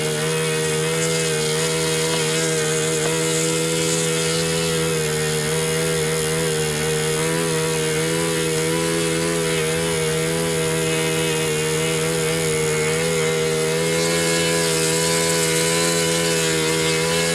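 Control-line model airplane engine running at a flying fly-in, a loud, steady high-pitched buzzing whine that holds for the whole stretch, with slight pitch wavering as the revs shift.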